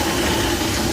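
A Boyertown step van engine idles with an exhaust leak, giving a steady, close, continuous rumble with a broad hissing texture and no breaks.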